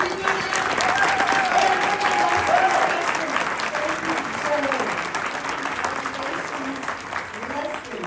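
Audience at a teacher of the year awards ceremony applauding, a sustained dense round of clapping that fills the room and gradually tapers, with some voices and a tonal sound mixed in underneath.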